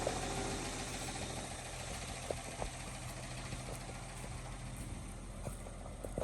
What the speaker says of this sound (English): Nice and quiet exhaust back here. You can hardly tell the truck's running.